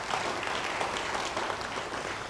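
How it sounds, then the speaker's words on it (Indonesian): Church congregation applause, a continuous, even patter of many hands clapping at moderate loudness, filling the room for a couple of seconds without voices on top. "Ya, mau beri tepuk tangan bagi dia."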